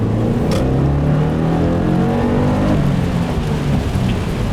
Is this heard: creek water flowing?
no